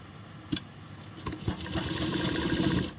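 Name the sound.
sewing machine stitching kurti piping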